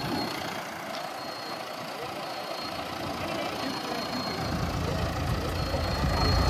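A tractor engine runs steadily with a Lemken implement mounted on it, a loud, continuous rumbling drone that grows gradually louder toward the end.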